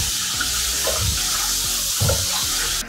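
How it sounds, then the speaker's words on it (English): Loud continuous rushing and splashing of water, with a few soft plops and sloshes as cucumbers drop into cold water. "put those cucumbers into the cold water immediately"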